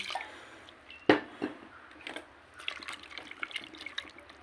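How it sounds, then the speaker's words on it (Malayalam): Water is splashed into a cooker of salted beef for a beef and kappa dish, starting with a sharp splash and followed by scattered drips and wet stirring sounds close by. "കുറച്ച് വെള്ളം ഒഴിച്ചു കൊടുത്ത് വേണ്ടേ"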